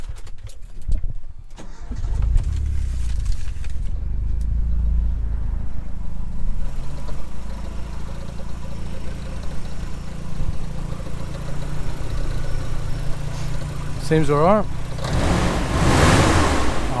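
A car engine cranks and catches after a fuel filter replacement, then settles into a steady idle before a few quick revs near the end; a person speaks briefly over it in a cold setting.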